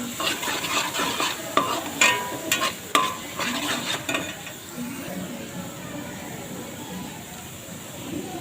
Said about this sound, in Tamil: அதை நல்லா ஃப்ரை பண்ணணும். அந்த இஞ்சி பூண்டு பேஸ்ட்டு பச்சை வாசனை போகணும்.